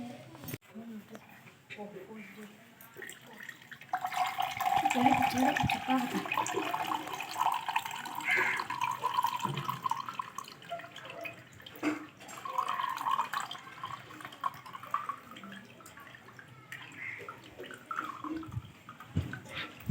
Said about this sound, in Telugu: ఈ నిమ్మకాయ నీళ్ళని వడగట్టుకోవాలన్నమాట ఎందుకంటే ఇది నిమ్మకాయ గింజలు అవన్నీ అవన్నీ ఉన్నాయి కాబట్టి ఇందులోకి వడగట్టుకోవాలి